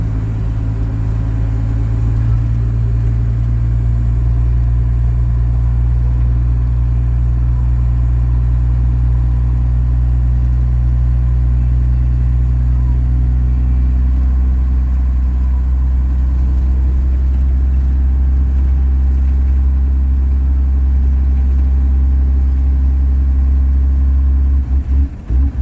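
First gen truck engine with a fuel problem idling steadily, a loud, close, deep rumbling drone that holds constant throughout with no voices.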